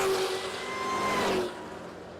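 A Shelby GT500 and a Pontiac G8 launch side by side in a drag race, engines roaring loud and close at first, then fading quickly as the cars pull away down the strip.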